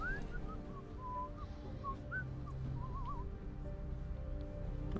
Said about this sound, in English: apparently so one of them was whistling